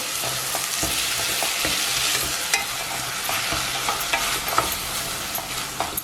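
Ground masala is stirred into a chickpea curry in a frying pan, with repeated scraping strokes of a spatula over a constant sizzle, close and fairly loud, no voices.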